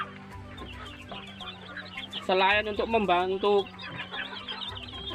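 Baby chicks in a warm brooder box under a heat lamp cluck and peep, with a burst of louder nearby calls in the middle while someone speaks over them.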